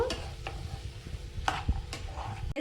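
Bottle gourd with salt is stirred in a frying pan, producing a soft continuous sizzle with a few scraping strokes and light knocks of the spoon against the pan.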